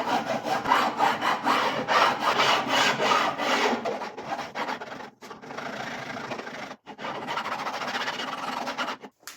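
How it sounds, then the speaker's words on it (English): Brass guitar frets on an archtop jazz guitar being filed by hand, a steady close rasping scrape in quick strokes that thins out and pauses briefly in the second half, with no voices. "So I put it on some blue marker to see where I'm filing."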